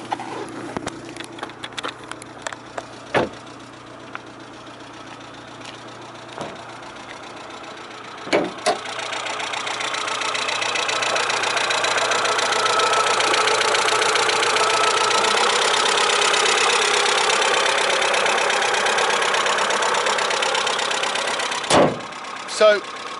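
An Alfa Romeo Giulietta 1.4 TB engine runs at a steady idle, a low even hum that grows a bit louder midway, with a few clicks and knocks nearby.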